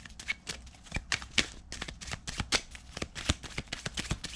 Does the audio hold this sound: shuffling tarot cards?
yes